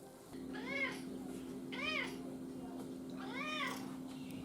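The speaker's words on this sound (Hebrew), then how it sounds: "זו החתולה הכי פטפטנית שיש, היא לא יכולה לראות אותנו בלי לצפצף" A chatty female house cat gives three distinct, drawn-out meows at a steady pace, close and clear over a low, constant background hum.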